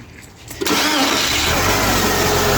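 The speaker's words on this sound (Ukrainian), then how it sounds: "Як бачите, машина заводиться, прекрасно працює" A Chery car engine, repaired after seizing, cranks briefly, then catches and settles into a steady, loud idle close by.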